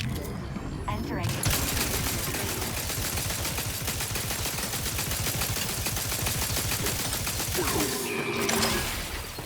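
Rapid automatic gunfire in a video game, a dense, loud burst of rattling shots sustained for several seconds as the weapon tears into robots, with mechanical clatter at the start and end.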